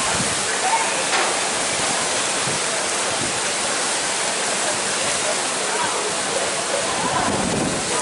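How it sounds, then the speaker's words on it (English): Strong dust storm wind at a hotel complex in Yuma, Arizona: a steady, loud broadband roar that rushes and hisses without a break, rising in a few louder gusts. "you can see like the dust just hitting outside, blowing over."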